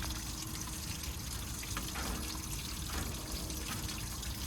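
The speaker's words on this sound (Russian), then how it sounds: "У нас ведется утренняя уборка. Шланг, щетка." Water runs steadily from a hose during morning cleaning at a wolf park, a constant hissing splash at moderate distance with no speech.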